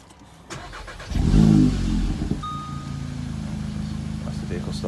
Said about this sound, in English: That's the vehicle started on a standard start.